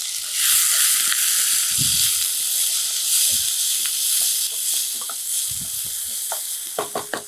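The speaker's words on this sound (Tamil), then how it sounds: "அந்த வெங்காயம் வந்து நல்லா வதங்கிருச்சு" Onions and tomatoes sizzle loudly and continuously in a pan, with occasional clinks and scrapes of stirring and low thumps of a utensil against the pan.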